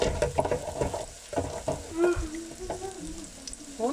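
Mushrooms frying in a deep fryer, crackling and bubbling in irregular bursts of sizzle with occasional clinks and stirring movements, fairly close and moderate in level.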